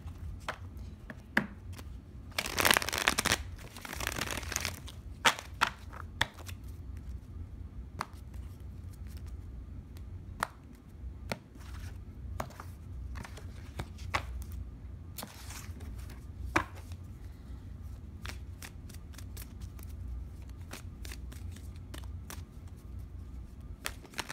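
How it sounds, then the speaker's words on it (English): Tarot cards are shuffled again and again, crisp riffles and taps in bursts with pauses between, close and fairly quiet. "I already pre-shuffled these, but I'm going to give them another shuffle for good measure."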